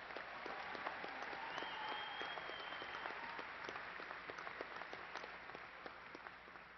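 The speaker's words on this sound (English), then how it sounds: "Please honor these graduates with a round of applause." A university fall commencement audience at Angelo State applauds graduates, sustained dense clapping at moderate volume throughout, with a few faint voices and a whistle-like tone briefly audible within the crowd.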